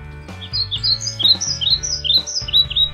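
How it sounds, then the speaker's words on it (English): Birds chirp in the Minecraft video game, a run of bright, quick tweets repeating over a steady low musical background, close and clear. "Ah, hello, little birdies."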